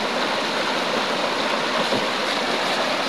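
Murky floodwater flows in a steady broadband rush, loud and continuous like a stream, with no talk over it.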